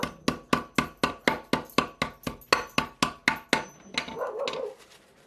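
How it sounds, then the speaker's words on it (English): Thirteen sharp, evenly spaced thuds of a hammer crushing pistachios in a Ziploc bag, then a short crinkly rustle as it settles. "crush them with a hammer."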